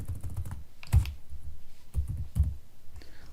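Clicks on a computer keyboard while a number is entered into a running Python program, a few separate keystrokes in short bursts that are close and fairly quiet, with no talking.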